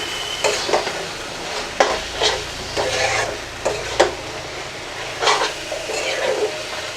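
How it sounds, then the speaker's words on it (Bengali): Taro leaves being mixed in a cooking pan for traditional village-style kochu shak, loud close scraping and rubbing strokes in an irregular rhythm over a faint sizzle. "এখন একটু ভালো করে মিশিয়ে নিই।"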